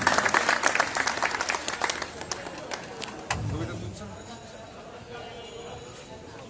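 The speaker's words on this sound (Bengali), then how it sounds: "তাদের জন্য একটি করতালি" A crowd at a club felicitation ceremony gives the Udit Tarun Club a round of clapping, dense and close at first, then thinning into scattered claps and murmuring as voices talk over it.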